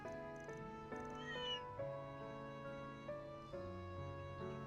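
Angry cat meowing from the Trails through Daybreak video game, a run of drawn-out, rising and falling yowls repeating over steady game music, clear and close.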